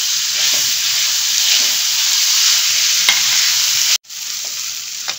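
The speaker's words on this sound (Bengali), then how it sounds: "দেখো পেঁয়াজ দিয়ে সব কিছু দিয়ে 2 মিনিট ভাজা হয়ে গেল" Onion, garlic, ginger and green chili frying in a pan, a loud, close, continuous sizzle with stirring scrapes throughout, broken by a brief cut near the end before the hissing frying resumes.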